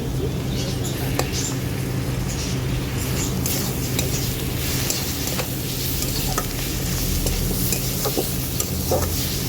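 Garlic paste frying with potatoes and onions in a pan makes a constant close sizzle, with scattered stirring taps and scrapes throughout and no talk.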